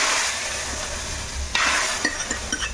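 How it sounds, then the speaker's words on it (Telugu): Hot tempering poured into pappu charu, a lentil broth, gives a loud, close sizzle that flares up sharply partway through and then crackles on steadily without any voices. "ఇప్పుడు ఈ స్టేజ్లో ఉండగా మనం తాలింపు వేస్తే గుమ్ము గుమ్ములాడుతూ"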